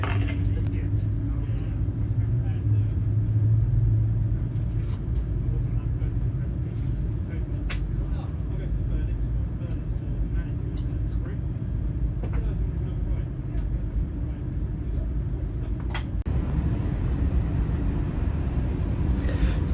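Low steady rumble inside the cabin of a British Airways Airbus A380 taxiing to the runway at London Heathrow, a continuous engine and rolling drone with occasional faint clicks, heard under a voice talking.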